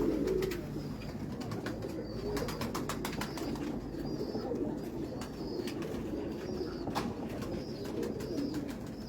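Racing pigeons coo in a loft, a steady low murmuring of several birds with occasional wing flaps and brief chirps, continuous throughout at moderate level.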